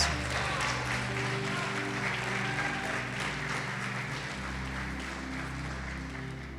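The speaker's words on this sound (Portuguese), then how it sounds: "Pode aplaudir e glorificar o Senhor Jesus." A church congregation claps together during a worship service, a steady wash of applause over sustained keyboard chords that carries on throughout and eases slightly toward the end.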